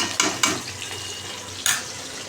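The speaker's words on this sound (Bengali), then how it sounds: "এই মাছটা ভাজা বসিয়েছি" Fish frying in a pan for a mixed-fish curry, a steady close sizzle with a few sharp clinks and scrapes of a utensil against the pan.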